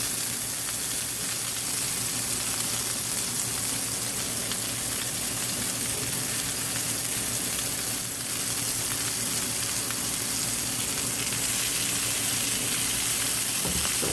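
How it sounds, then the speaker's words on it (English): Onions and peppers fry in a pan with a steady, dense sizzle that holds at even loudness throughout, close up and without talk. "put the onions and peppers in"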